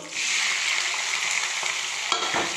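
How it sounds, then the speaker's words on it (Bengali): Chopped onion and bay leaf frying in oil in a pan, a steady bright sizzle throughout with a few soft clinks of stirring near the end. "পেঁয়াজটাকে ভাজবো"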